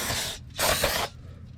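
Two sharp hissing bursts of aerosol spray onto a brake rotor on a 2000 Ford F250 7.3 Powerstroke truck, close up, the second burst longer, with faint background rustle between them.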